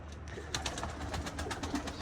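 Pigeons coo in a series of soft, low calls at moderate distance, kept before an expected rain, with steady outdoor background noise and no talking.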